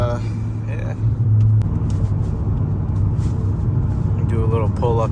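A Volvo S40 T5 cruises along, its engine rumbling low and steady with road noise, heard from inside the cabin as a person talks over it.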